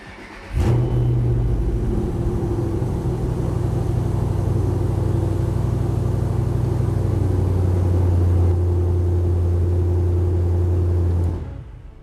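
An S197 Ford Mustang engine cranks and catches about half a second in, then settles into a loud, steady idle with a low rumble that carries on unbroken for around eleven seconds before cutting off.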